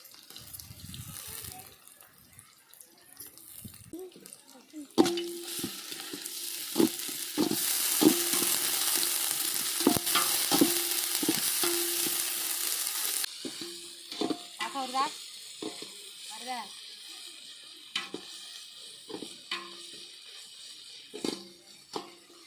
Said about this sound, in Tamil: அடுத்து வந்து இஞ்சி பூண்டு பேஸ்ட் சேர்த்துக்கலாம்